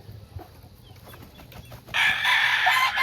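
Chickens cluck faintly at first, then a loud rooster crow bursts in and holds over the last second, nearby on a poultry farm.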